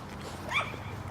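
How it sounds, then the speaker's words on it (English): A tiny dog gives a single short, high yip-like bark at a moderate distance over a quiet outdoor background with faint traffic. "The most vocal of which is just a tiny dog."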